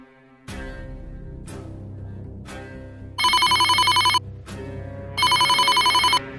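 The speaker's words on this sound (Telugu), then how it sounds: "ఏంటి గోవింద ఫోన్ చేస్తున్నాడు?" A telephone rings in two long electronic trilling bursts, loud and close, separated by a pause, over dramatic music stings, with no talking.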